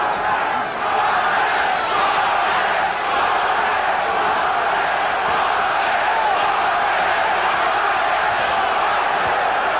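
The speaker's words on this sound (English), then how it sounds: "the crowd is chanting Duran's name" A large boxing arena crowd at the 1983 Marvin Hagler versus Roberto Duran fight roars and chants Duran's name, a steady, dense wall of voices continuing without pause throughout.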